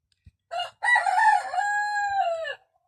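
A rooster crows once, loud and close, in a full drawn-out call after a short opening note, with a faint tap before it and silence around it.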